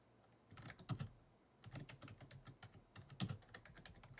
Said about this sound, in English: you can even hear me typing as I'm doing this.